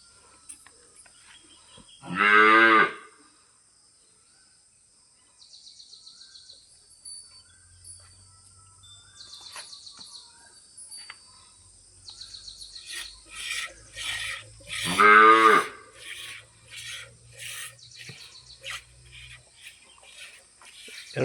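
A Sahiwal cow, calved five days earlier, gives two loud, drawn-out moos, one near the start and one toward the end, with quieter animal sounds and outdoor farm noise in between.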